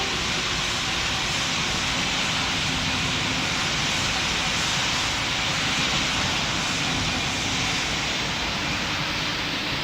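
A jet airliner's engines roar as a steady, loud broadband rumble throughout, holding on the runway for takeoff in the Roblox game Pilot Training Flight Simulator.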